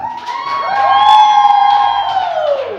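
A crowd at the back of a talk-show set lets out a sustained, rising and falling cheer of whoops and shouts, loud and close.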